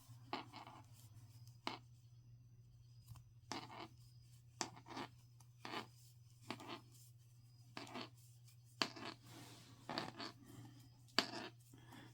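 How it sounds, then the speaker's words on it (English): Plastic crochet stitch markers click and rattle against each other while a petal granny square is being worked, giving a dozen or so sharp, irregular ticks over a steady low hum. "the stitch markers are making such noise"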